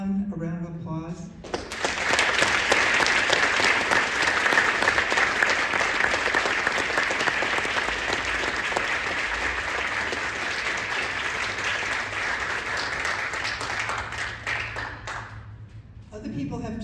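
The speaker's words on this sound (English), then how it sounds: "can we all give everyone a round of applause?" At a book launch gathering with veterans present, an audience breaks into a long, loud, sustained round of applause that slowly fades, with speech just before it begins and again as it ends.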